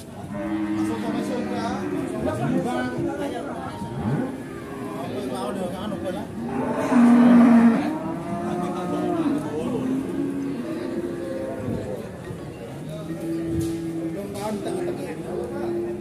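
Cattle at a livestock weigh market, including a heavy bull around 600 kg, low moos rising and falling under constant nearby chatter and someone talking, with one louder bellow midway.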